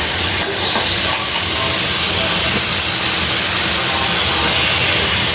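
Coriander and cumin powder masala sautéing in a pan, a steady close sizzle and hiss with faint stirring scrapes running unbroken throughout.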